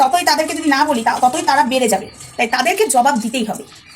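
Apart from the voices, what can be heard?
None of the usual background noises is heard.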